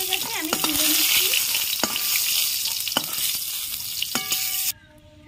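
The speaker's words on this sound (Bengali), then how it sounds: "মাছের তেলে আমি বড়িগুলো ভেজে নিচ্ছি লাল করে।" Lentil dumplings (bori) fry in fish oil with a steady, loud sizzle, broken by a few scraping stirs and clinks of a spatula in the pan before the sound cuts off abruptly near the end.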